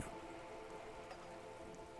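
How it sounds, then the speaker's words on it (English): Steady rain pattering on wooden boards and splashing onto surrounding water in Disco Elysium, a dense, even wash of drops holding at a constant level throughout, with no voices. "All around you, rain keeps falling down. On the wooden boards she's standing on, and on the water around you."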